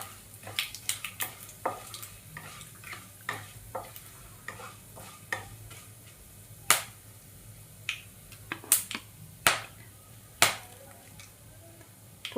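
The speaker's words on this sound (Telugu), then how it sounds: "ఇప్పుడు హోల్ బిర్యానీ మసాలాలు అనేవి వేసుకోవాలి ఇందులో." Whole biryani spices crackle and pop in hot oil in a pan for tomato rice, with a dozen or so sharp, irregular snaps over a low sizzle, close and fairly quiet.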